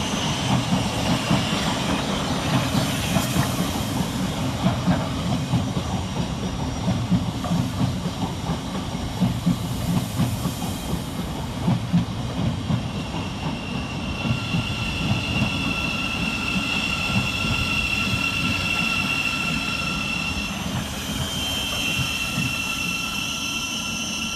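Class 700 Thameslink unit 700 132 passes through Farringdon railway station on the Bedford to Brighton service, with a continuous rolling rumble, hiss and faint rhythmic wheel clatter at moderate distance and no voices.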